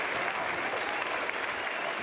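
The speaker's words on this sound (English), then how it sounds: "nice round of applause from Morris" Steady, dense clapping from a baseball crowd at an NCAA super regional between North Carolina and USC fills the moment, loud and continuous throughout with no voices.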